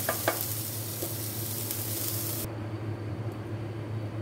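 Sautéed ingredients sizzle in a frying pan as they are stirred and scooped out, a steady close hiss with a few quick scrapes and clicks near the start, the sizzle softening partway through.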